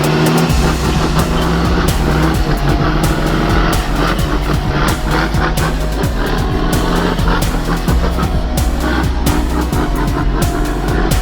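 A heavy caterpillar machine labors to pull a logging truck free from a narrow forest corner, its engine droning loud and continuously with rapid clanking and knocking transients throughout.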